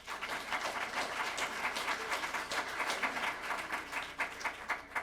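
Audience applause fills a county council meeting, a steady dense patter of many hands clapping continuously at moderate volume from across the room.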